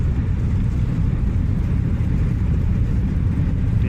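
The engine thrust reversers of an Airbus roar loudly during the landing rollout, a steady, heavy, low rumble that continues without a break, with no talk.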